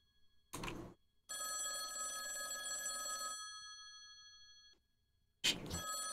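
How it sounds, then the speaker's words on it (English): An electronic telephone in The Phobia Project game rings with bright, tonal bursts: one short ring, a longer sustained ring, a pause, then another ring beginning, close and clear with no talk over it. "It's just the phone"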